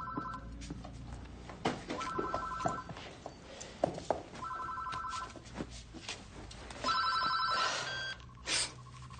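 A mobile phone rings in a repeating pattern of electronic tone bursts, moderately loud over a busy indoor background, with a brighter ring near the end.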